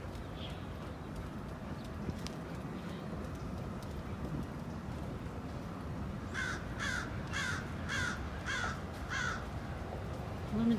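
Crows caw overhead, a run of about six harsh calls in quick succession, moderately loud above a constant outdoor background hum.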